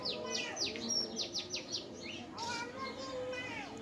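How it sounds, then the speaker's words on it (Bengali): A bird calls repeatedly from nearby, bright chirps and short whistled notes over a soft, steady background hum. "জাতীয় পাখি আমাদের গাছে বসে ডাকে"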